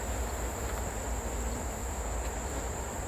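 Agitated honeybees buzzing at an open backyard hive during a frame inspection: a steady, dense, unbroken drone close by, with no pauses and no voices.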